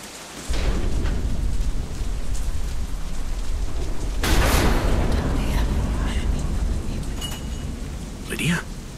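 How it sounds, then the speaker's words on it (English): Dense, loud rain hisses continuously during a storm in the video game Deadlight, with a thunder crash rolling in midway and a brief voice-like sound near the end. "Damn storm."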